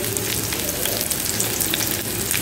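Onions hit hot oil in a pan for a fish masala and sizzle loudly and steadily up close, with a dense crackle of fine popping throughout and no talking.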